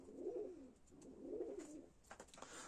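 Van pigeons coo softly in two rounded, throaty phrases, followed by a few faint chirps, all quiet and close with no talking.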